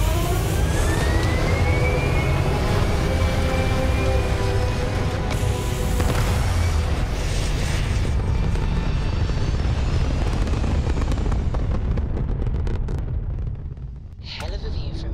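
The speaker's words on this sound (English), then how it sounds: "All thrusters firing." Spaceship thrusters fire in the video game Starfield with a loud, sustained roaring rumble and a rising whine, swelling then fading toward the end, with voices speaking over part of it.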